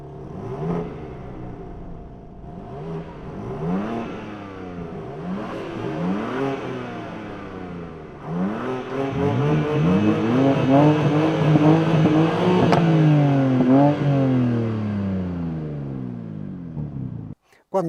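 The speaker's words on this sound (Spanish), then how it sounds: "¿habéis oído cómo suena el coche?" BMW M2 G87 engine and exhaust revving repeatedly, pitch sweeping up and down through several gear-like pulls, then a long sustained loud rise near the end before cutting off abruptly.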